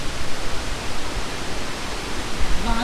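Steady broadband rush of a waterfall at Devkund in Mayurbhanj, Odisha, a constant dense roar filling the scene with no clear voices over it.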